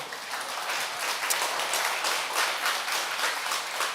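Steady applause from an audience at a church training lecture, many hands clapping together at a moderate, even level throughout, with no voices standing out.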